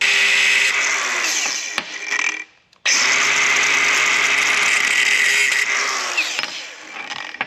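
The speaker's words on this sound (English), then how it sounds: "We're gonna go ahead and cut it off with the cutoff wheel." A cutoff wheel grinds through welded metal in a long, loud, harsh whine that dips briefly near the middle and then resumes at full strength, close by, with no voices.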